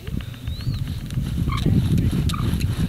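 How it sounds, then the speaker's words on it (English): A wooden bow drill spindle grinding in a fire board, giving off rough squawking friction noises in a quick back-and-forth rhythm, close up with no voices. "You hear that squawking going on? Yeah. That's the friction."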